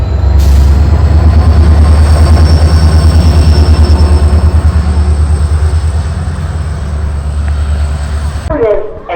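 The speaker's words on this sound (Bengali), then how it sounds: "কত সুন্দর বুলেট ট্রেন আসামের, যার গিয়া গুয়াহাটির উদ্দেশ্যে" A train running from Silchar toward Guwahati in Assam makes a loud, steady rumble with rhythmic wheel clatter throughout, and a brief squeal and clunk near the end.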